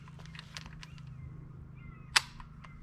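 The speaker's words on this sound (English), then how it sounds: "Click, no bang." A PSA AK-74 rifle chambered in 5.45x39 misfires on a cratered primer, giving a single sharp metallic click with no shot, amid faint handling noises and quiet surroundings.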